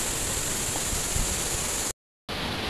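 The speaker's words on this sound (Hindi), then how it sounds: "वाओ यहाँ से एक तो बहुत बड़ा झरना आता है" A large waterfall at a misty hillside stream pours with a steady, loud broadband rush that fills the scene, briefly cut to silence near the end before resuming.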